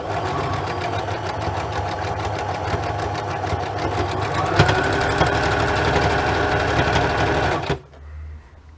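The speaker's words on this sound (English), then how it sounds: "I'm going to just quickly sew this one" A sewing machine runs steadily, stitching a junk journal cover with a fast, even mechanical whir up close, then stops abruptly near the end.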